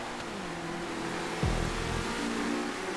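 A car engine revs in the video game GTA V during an online race, a steady droning hum with a sudden rev surge midway, fairly quiet and with no talk.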